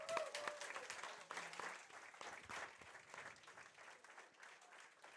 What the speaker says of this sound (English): how about a big round of applause for Carter Maha?